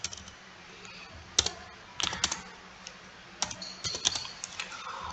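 Coordinates being entered on a computer keyboard: scattered sharp key clicks arriving in irregular bursts and single taps over a few seconds, close and clear, with no voices.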